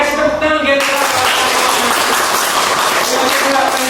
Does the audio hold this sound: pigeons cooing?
no